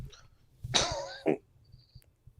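A single harsh video game cough followed by a shorter second cough, fairly close, over a quiet background with faint clicking.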